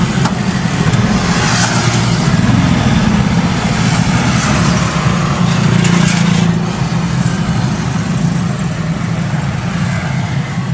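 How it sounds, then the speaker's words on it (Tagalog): Steady roar of rush-hour traffic on a busy road, a continuous low engine rumble with idling and passing cars and trucks, loud and close, with no talk. "Rush hour, ang daming sasakyan."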